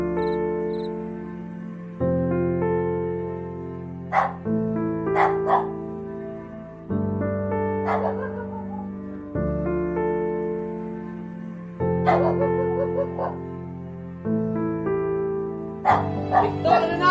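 In a Filipino audio drama, dogs bark in short clustered bursts every few seconds over steady, sustained background music, with the barks standing out clearly above the score.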